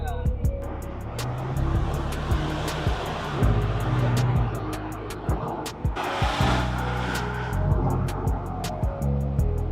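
A car with a turbo-like engine is driven hard, its engine hum and tire noise running steadily beneath frequent conversation between occupants, with a few sharp knocks and surges along the way.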